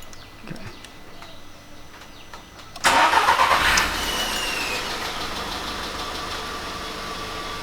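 A VW Polo Vivo engine fitted with a custom air intake cranks briefly and fires up loudly, then settles into a steady, close idle hum with faint clicks beforehand.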